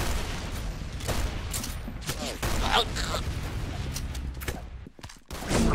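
Rapid game gunfire crackles in dense bursts during a Roblox Arsenal match, near and loud with a few brief gaps, while a voice speaks over the shooting.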